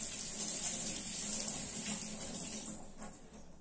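Running water splashing over a lamp item as it is washed after being scrubbed with pitambari powder, a steady, fairly quiet tap-like gush that trails off toward the end.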